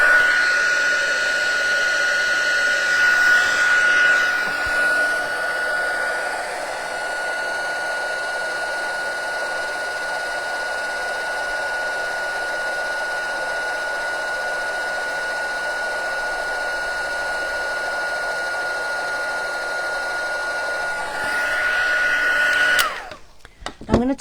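A heat embossing tool blows hot air for stamped card crafting, a loud steady whine-and-rush drone that runs unbroken for over twenty seconds before clicking off, close and alone.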